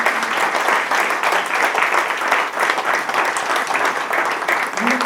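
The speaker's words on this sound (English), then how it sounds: "A round of applause for that." A dense, steady round of applause from a group fills the whole stretch, loud and continuous with no break.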